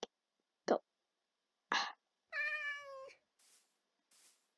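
A cat in Minecraft makes a string of short, clipped chirps, then one drawn-out meow and a couple of faint trailing mews, each set apart by silence.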